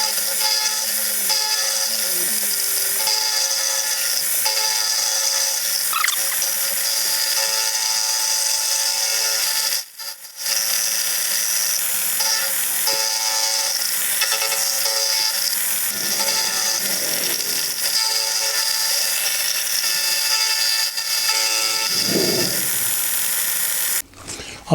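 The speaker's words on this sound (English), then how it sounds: "We're going to start this cut by taking the ends off of the two bolts, and then once we get that down to the top of the job here, we then cut right across that" A milling cutter on a vertical head machines across bolt ends on a rotary table while making curved T-nuts, giving a steady, loud whine and grinding hum that runs nearly unbroken, with one brief pause about halfway.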